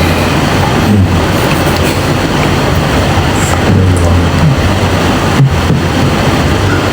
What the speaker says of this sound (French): C'est le train qui passe à Lomé.